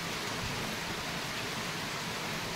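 Steady rain pours down in a continuous, even hiss, close and fairly loud, with no voices or other sounds breaking through.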